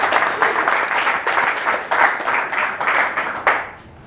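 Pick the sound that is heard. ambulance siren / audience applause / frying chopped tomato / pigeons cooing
audience applause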